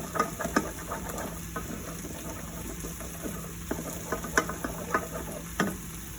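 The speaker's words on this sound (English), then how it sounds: "now a few lumps, so I can quickly stir that, get all those out" A sauce thickened with stock is whisked hard in a pan to break up lumps, a steady wet stirring with repeated sharp clinks and scrapes, close and moderately loud, with a faint simmering hiss underneath.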